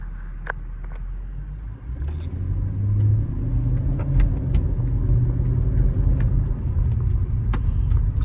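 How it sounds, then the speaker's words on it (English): Continuous low road rumble and tire hum from inside a moving 2003 Mercedes SL500 with coilover suspension, steady and droning, with a few faint clicks and no talking. "You hear a little bit of tire wear noise"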